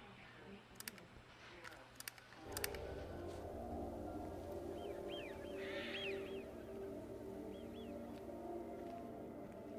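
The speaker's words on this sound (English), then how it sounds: "Definitely hearing birds." Crows caw and birds call faintly in the ambient soundscape of the video game Everybody's Gone to the Rapture, after a few sharp clicks, with a soft outdoor hum underneath.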